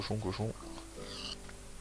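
A pig in the video game Minecraft gives short grunting oinks up close at the start, followed by quieter game sounds while someone talks.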